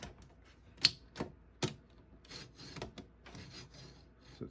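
A 1924 Remington Portable typewriter's margin release and key lock are worked by hand, giving a few sharp mechanical clicks and soft metallic rubbing sounds, close and quiet.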